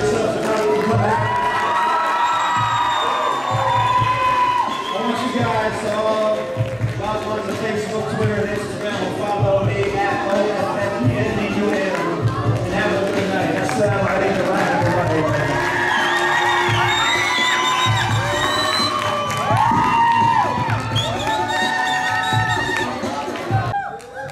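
A concert crowd in Toledo, Ohio cheers and shouts loudly and continuously for about twenty-four seconds, a dense roar of voices, whoops and applause with a steady, close, full sound throughout.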